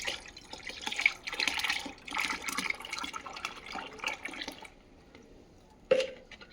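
Organic fertilizer solution splashes and trickles into a bucket of about 10 to 15 litres of water, a soft, close pour lasting several seconds, followed by quiet and a single sharp clunk.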